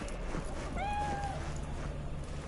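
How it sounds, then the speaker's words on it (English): A single short cat meow from the video game Cyberpunk 2077 rises out of a steady, busy game background hum. "Do I hear Kitty? Where's Kitty?"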